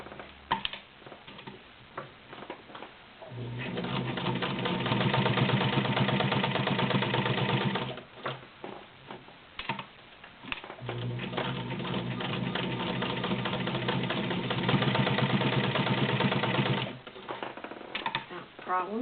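A Kenmore Model 1247 sewing machine stitching through five layers of denim: two long runs of rapid, rattling stitching, separated by pauses with brief handling clicks.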